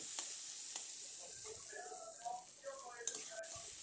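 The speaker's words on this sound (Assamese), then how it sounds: "এতিয়া এইখিনি ভাজি লৈছোঁ।" Spices with red chili powder fry in a pan for dal, giving a soft, steady sizzle with light stirring scrapes throughout.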